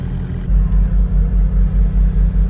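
A twin-engine Honda CRX sits idling with both engines running, a loud, deep, steady rumble that pulses rhythmically, recorded close with no voices.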